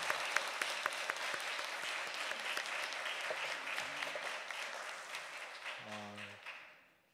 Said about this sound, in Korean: 우리 박수 한번 더 하시죠.